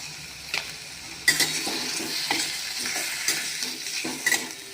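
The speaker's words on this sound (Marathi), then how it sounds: "हे सर्व एकत्र करून घ्यायचं आहे" A spoon stirs boiled potato filling mixed with salt and lemon juice for fasting batata vada, making repeated scraping and clinking strokes against a pan at an irregular rhythm, close and fairly loud.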